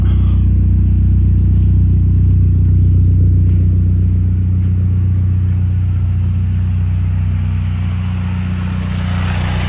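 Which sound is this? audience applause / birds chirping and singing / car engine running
car engine running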